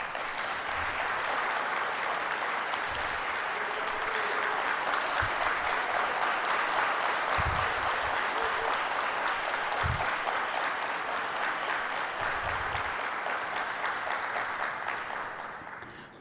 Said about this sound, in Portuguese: eu gostaria de solicitar uma salva de palmas